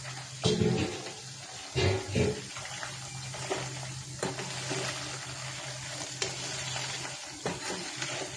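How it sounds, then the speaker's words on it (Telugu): Chicken pieces fry in a pan with ginger for chicken pachadi, giving a continuous close sizzle broken by a few louder stirring scrapes and clatters. "చికెన్ వేసాను, ఫ్రై అవుతుంది."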